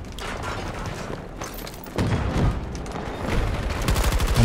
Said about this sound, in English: What the hell was shooting me then?